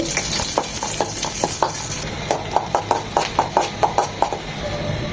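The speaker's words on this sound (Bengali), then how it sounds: "মাছ ভেজে যে তেলটা অবশিষ্ট ছিল সে তেলটা এখানে দিয়ে দিচ্ছি দিয়ে দেবো একটা পেঁয়াজ কুচি" Chopped onion sizzling in leftover oil from frying fish, a steady frying hiss under a series of regular stirring clinks and scrapes of a utensil against the pan, no voices.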